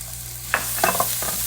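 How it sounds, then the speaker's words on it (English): Shallots in olive oil sizzle quietly in a frying pan, a soft steady hiss broken by a few short stirring scrapes and clinks. "In this frying pan, we're going to put a bit of olive oil, and to it we'll add the shallots."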